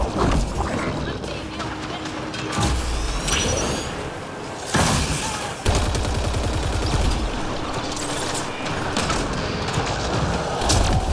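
Rapid bursts of gunfire aimed at turrets in the video game Mass Effect Andromeda, loud, close and repeated, mixed with booms, mechanical clanks and whooshes in a dense combat mix.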